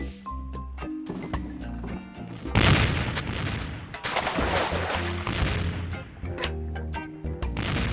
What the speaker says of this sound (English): Hey, it's one of those new self-loading cannons I've heard so much about.